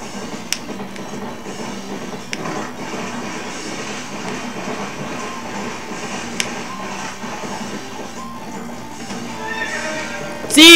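A horse neighs in The Legend of Zelda: Twilight Princess during steady in-game ambience and clip-clop hoofbeats, with a sharp louder burst right at the end.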